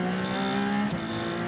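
Ferrari race car on a track, engine note holding steady and loud with tonal whine and dense harmonics, throttle kept open through the short stretch.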